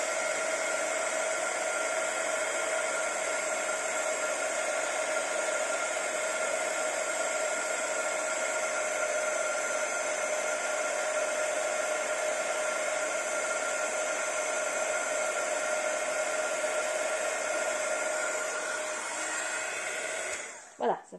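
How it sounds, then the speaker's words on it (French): Embossing heat gun blowing hot air, a steady, close whooshing hiss with a constant motor whine that holds unchanged for about twenty seconds before cutting off. "un pistolet à chauffer"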